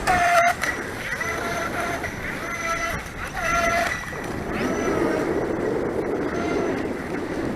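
FeiLun FT012 brushless RC racing boat running at full throttle on choppy water, a high whining motor tone that rises and drops in bursts over water splash, heard at a moderate distance.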